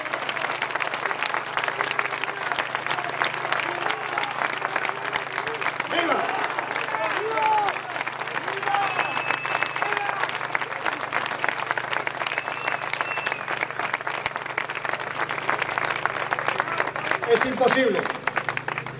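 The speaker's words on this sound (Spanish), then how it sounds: "Un fuerte aplauso para ellos." Sustained audience applause at a Vox political rally in Vigo, dense steady clapping filling the hall for nearly twenty seconds, with crowd noise and some voices mixed in, swelling slightly near the end.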